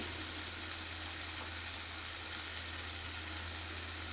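Pieces of raw mango fry in hot oil in a pan for a Telugu salted-mango curry, giving a steady, even sizzle with a constant low hum beneath it and no pauses.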